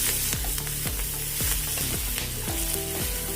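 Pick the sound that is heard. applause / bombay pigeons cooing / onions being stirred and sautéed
onions being stirred and sautéed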